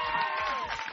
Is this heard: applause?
yes